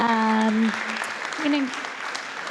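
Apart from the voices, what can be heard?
audience applause at pitch competition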